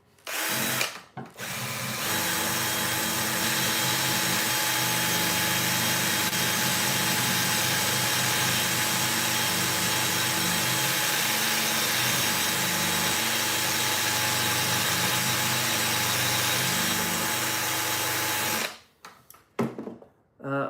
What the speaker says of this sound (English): More drill ASMR coming up, team.